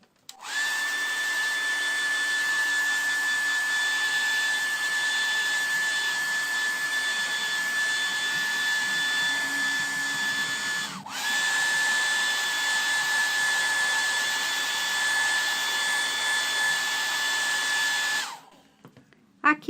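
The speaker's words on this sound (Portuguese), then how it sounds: "você tem que movimentar o secador o tempo todo para que você não queime a sua tinta" A hair dryer runs steadily to dry paint on an MDF box, a loud continuous whine that cuts out briefly around the middle, resumes, then stops near the end.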